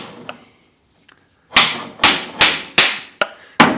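A bolt is driven into a motorcycle wheel bearing, heard as a run of five sharp, loud metallic hammer strikes at a steady pace, each fading quickly, after a few faint taps.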